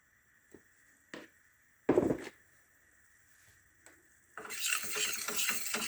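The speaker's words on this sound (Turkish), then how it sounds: "Unun kokusu çıkana kadar bu şekilde kavuruyoruz yağı ve unu" Flour roasts in hot oil for a mushroom soup, starting quiet with a few separate clinks and scrapes of a spoon against the pot, then a steady frying hiss with stirring comes in strongly for the final second and a half.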